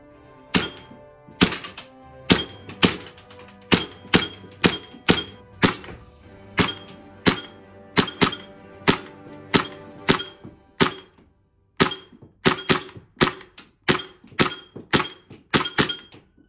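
A KSC MK23 CO2 airsoft pistol fires shot after shot through a full magazine, about two dozen sharp, evenly paced cracks close by, with a brief pause partway through.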